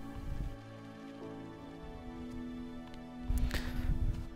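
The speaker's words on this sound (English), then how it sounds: "if only this endless rain would stop" Steady soft rainfall patters across the surface in the video game Omno, a gentle continuous hiss with a slightly louder burst of drops near the end.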